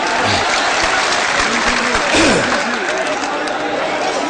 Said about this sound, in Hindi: जोरदार ताली बजा दो इन दोस्तों के लिए।